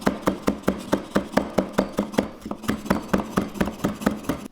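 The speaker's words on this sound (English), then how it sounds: "Nice, finely chopped, fragrant lemongrass." A knife finely chopping lemongrass on a cutting board, with a fast, steady run of crisp thuds, several per second, close up and with no talking.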